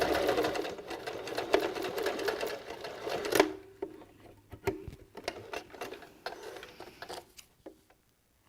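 A sewing machine hums and clatters as it stitches a fleece beanie, running steadily for about three seconds, then slowing into scattered short bursts of stitching and soft mechanical clicks.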